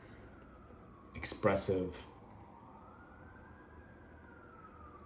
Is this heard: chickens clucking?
no